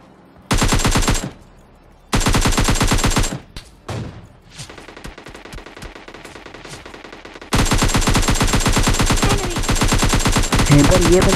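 Rapid automatic gunfire from an MK40 rifle in PUBG Mobile Lite, loud dense bursts of a couple of seconds each, then scattered shots and a long final burst.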